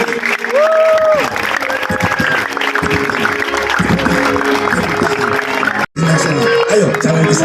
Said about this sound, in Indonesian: Tepuk tangan terus, tepuk tangan.